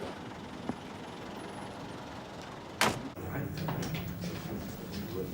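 A vehicle door slams shut once, a sharp, loud thud partway through, then settles into a low engine rumble with faint voices nearby.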